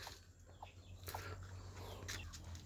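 Breeder hens cluck softly in scattered short calls over a low steady hum, the birds sounding fairly faint and a little distant.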